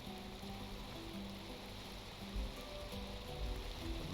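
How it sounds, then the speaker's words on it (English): Muffled rain in the Minecraft video game, a steady soft hiss of falling rain with faint low thuds, distant and even throughout. "The muffled rain sound"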